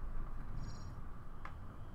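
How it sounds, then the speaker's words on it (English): A Thargoid ship in the game Elite Dangerous gives off a faint, low purring growl, a quiet rumbling drone under a few brief higher chirps. "I also like that low growl that it lets out. It sounds like a purring cat."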